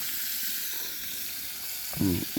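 Small, thin capelin fish frying in a pan over an open wood fire outdoors, giving a steady broadband sizzle that runs throughout, with a brief louder spatter of crackle near the end.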